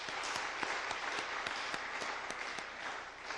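A church congregation at a Sunday afternoon service claps together in a steady round of applause, moderately quiet, with individual sharper claps standing out over the mass.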